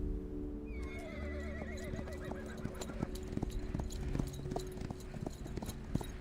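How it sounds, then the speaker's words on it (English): In the video game Reverse 1999, a horse gives a clear, descending whinny as rhythmic hoofbeats clip-clop at a gallop beneath it, set against a soft musical background. "The horse answered with a loud neigh."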